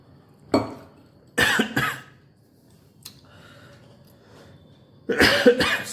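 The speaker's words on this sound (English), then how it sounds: "Sorry, I'm getting lot of cough." A lecturer coughs in short bursts: one sharp cough, then two quick ones close together, a faint pause, and a final harsher cluster, close and loud against a quiet room.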